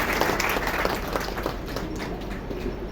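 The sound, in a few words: applause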